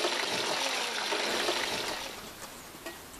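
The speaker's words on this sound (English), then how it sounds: "Wash the foods with water 3 times afterwards." Water pours and splashes steadily while food is washed, a close, continuous rushing wash that eases slightly toward the end, with no voices.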